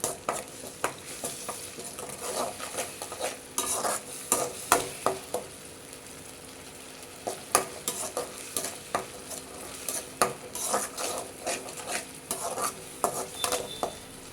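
Masala for street-style masala sundal sautéed in a pan, with frequent close scraping and clinking stirs of a spatula against the metal over a soft continuous sizzle, and no voices.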